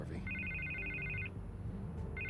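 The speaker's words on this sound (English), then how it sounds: "I can't get the phone to stop ringing" A telephone rings in Batman: The Telltale Series, a long burst of rapid electronic trills, then a short pause and a second ring starting, over a low, steady background rumble.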